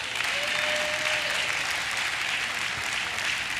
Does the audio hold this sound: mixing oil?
no